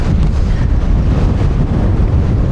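Strong, steady wind buffets the microphone on a Lake District fell summit, a continuous loud low roar with gusty rumble throughout and no speech.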